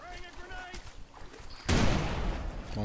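A sudden loud blast erupts and rolls into a sustained roaring rumble, following a stretch of quieter tonal game sounds.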